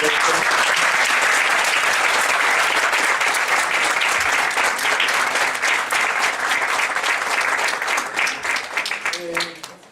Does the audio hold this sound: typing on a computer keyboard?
no